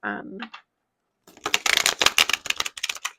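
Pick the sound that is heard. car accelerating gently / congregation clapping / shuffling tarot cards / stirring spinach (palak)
shuffling tarot cards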